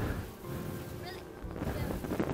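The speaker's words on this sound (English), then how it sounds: "It's extremely windy." Strong wind buffets the microphone beside a lake at night, a steady broadband rush with gusts that swell toward the end, faint voices and rustling underneath.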